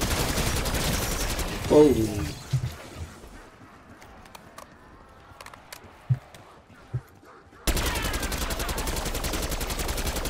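Rapid AK rifle fire in a solo video game on the Liberty Falls map: dense, loud bursts open, thin to a few scattered shots and a short exclamation, then heavy sustained automatic fire returns through the end.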